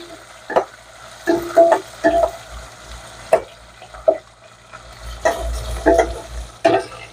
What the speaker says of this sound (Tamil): நல்லா வெங்காயத்தை நல்லா வதக்கணும்.